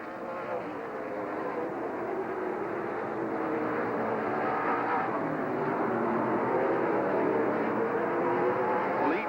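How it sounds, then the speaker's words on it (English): Late model race cars roar around Rockford Speedway in a continuous, fairly distant engine drone that swells slightly as the pack passes. "Rick Corso right there in the 88 car"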